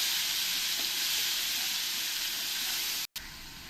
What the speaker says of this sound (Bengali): যে পেঁয়াজটা পেস্ট করে রেখেছি থেকে বড় বড় দু চামচ দিয়ে দেবো দিয়ে ভালো করে নেড়ে দেবো